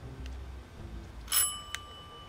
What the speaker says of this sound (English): We can ring the doorbell.